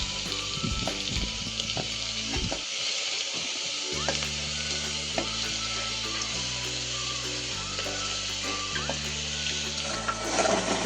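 Goat intestine sautés in masala with salt and turmeric, giving a loud, continuous sizzle and frying hiss, with bursts of stirring and occasional clatter.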